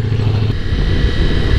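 A Ducati Multistrada V4S engine with stock exhaust rumbles steadily up close, a deep, throaty idle with a slight clatter and no talking.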